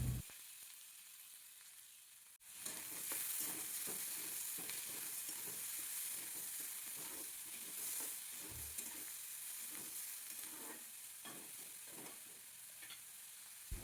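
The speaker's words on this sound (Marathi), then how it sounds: "इथे सर्वात आधी मी कांदा परतवून घेणार आहे" Chopped onion sautéing in a little oil for a spicy farsan bhaji, a dense continuous sizzle after a quieter start, close and fairly loud, with scattered stirring scrapes and no talking.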